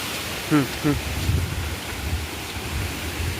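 A waterfall in a village stream area pours with a steady, broadband rushing roar that fills the background, with a few brief voices talking over it.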